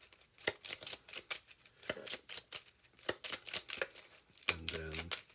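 Quick, crisp riffling of beacon cards from the Warp-Lancer board game, shuffled close up in a rapid run of snaps, ending with a brief murmur of voice.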